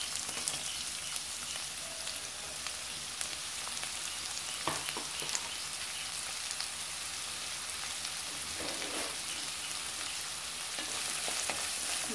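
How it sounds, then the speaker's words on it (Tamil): Onions frying in melted butter in a pan give a steady, even sizzle with a soft crackle that runs unbroken from start to finish, and no voices are heard. "வெங்காயம் நல்லா கொஞ்சம் வதங்கணும்."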